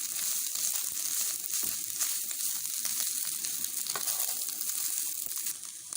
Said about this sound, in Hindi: अब हम इसमें गाजर शामिल करेंगे, इसको अच्छे से पकाएंगे।